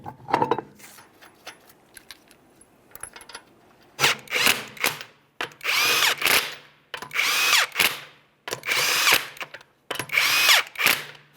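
A power tool runs down the 21mm lug nuts on a 2009-2014 Nissan Maxima wheel in five loud, close bursts with short pauses between them, after a few light metallic clinks.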